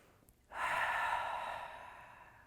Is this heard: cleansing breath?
yes